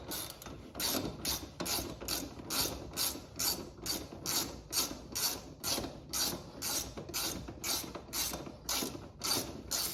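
Ratchet wrench with a 14mm socket tightening a bolt while replacing a front wheel bearing on a Suzuki Vinson 500 4x4 ATV, giving a rapid, even run of clicking strokes, close and clear with no talk.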